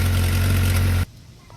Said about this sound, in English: I've revved it up a few times to get the vinegar water circulating in there.